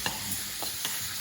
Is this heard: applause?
no